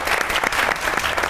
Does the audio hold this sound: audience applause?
yes